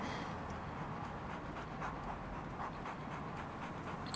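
Steady, close dog panting runs through the whole stretch, a continuous breathy rhythm with no talk over it.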